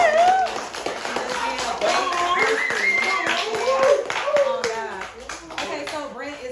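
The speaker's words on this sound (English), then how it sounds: "Y'all give him a round of applause for helping" Scattered clapping from a small audience at a late-night live interview show, with several people talking and calling out over the claps throughout.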